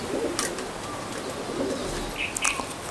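Pigeons coo softly in a home loft, faint low murmurs drifting through a quiet background, with a few brief sharp higher chirps and rustles nearby.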